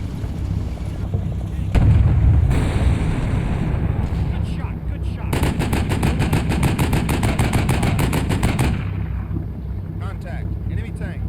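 In the Cold War tank combat game Combat Mission Cold War, Dragon anti-tank missiles launch amid gunfire: a steady roar of heavy firing, booms and rapid repeated shots that builds into a sustained rattling burst, with someone narrating over it.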